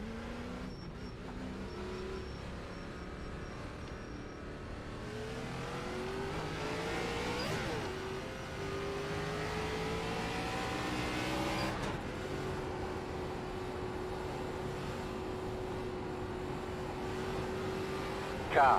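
Video-game NASCAR race cars on a track, engines droning and rising in pitch as they accelerate and pass, a continuous moderately loud roar with shifting whines and no break throughout.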